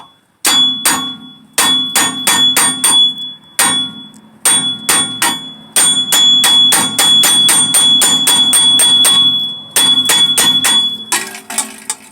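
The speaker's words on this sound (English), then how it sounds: "Now I'm going to beat this off with the hammer until it comes out." Loud metallic hammer blows ring out in quick irregular bursts as a rear wheel bearing is beaten out of a 2009 Scion xB, dozens of sharp clanging strikes with brief pauses between volleys, close up.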